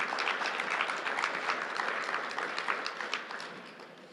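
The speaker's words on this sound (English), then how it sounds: "Let's give a warm round of applause for Jennifer." Warm round of applause from a meeting audience for the acting planning director, steady dense clapping throughout, fading slightly toward the end.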